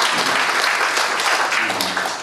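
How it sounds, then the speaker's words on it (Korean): A wedding hall audience applauds at a mass joint wedding ceremony, a steady dense wash of clapping that stays loud and even throughout with little else beneath it. "박수 좀 보내주실까요?"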